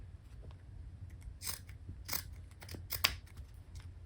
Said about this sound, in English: And then I'm going to cut 3 inches, which is what I'm going to use for the side hem.